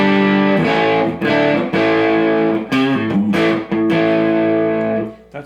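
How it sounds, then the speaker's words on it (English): An electric guitar, an Epiphone Special through a Marshall amp, with heavy distortion plays sustained, ringing chords and notes, loud and up front, with brief gaps between phrases before a final fading strum. "Let's try it with a little bit of gain. So a little bit of distortion."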